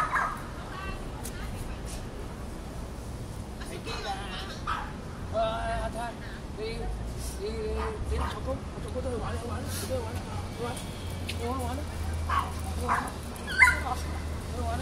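Small dogs playing in a park yip and whimper intermittently amid outdoor ambience, with people chatting nearby.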